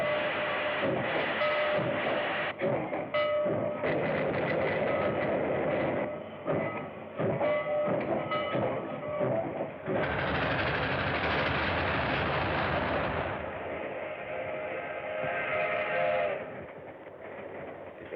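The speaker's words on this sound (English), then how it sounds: "it was a late train pulling out of the P&M station for Los Angeles" A train pulling out of a station in an old Dick Tracy film rumbles continuously, with rhythmic clanking and hissing bursts over a dense, steady roar, loud throughout and rising in a heavier surge midway.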